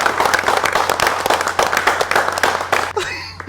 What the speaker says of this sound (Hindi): तालियां रुकी नहीं रही थी।